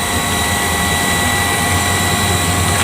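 A repaired Shimizu electric water pump motor runs steadily and loudly, a constant dense whirring hum with sharp tonal whine bands that holds unchanged from start to finish.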